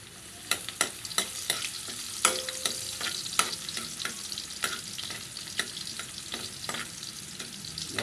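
Garlic fries in a pan for coconut-milk chicken adobo with a light sizzle broken by frequent sharp spoon scrapes and clicks, irregular and fairly quiet, with nobody speaking.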